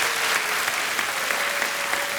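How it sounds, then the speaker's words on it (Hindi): A studio audience at a television quiz show gives steady, dense applause for a Diwali occasion, loud and continuous throughout the short stretch. "दीपावली के अवसर पर तालियां बज जाएं इनके लिए।"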